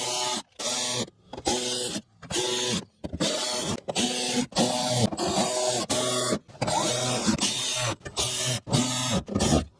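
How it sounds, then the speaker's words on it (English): Starter bolts are tightened on a GM truck with a 5.3L V8, such as a Silverado or Sierra, in a run of about a dozen close, loud mechanical whirring bursts separated by short silent gaps. "and then we just go around and tighten them all up."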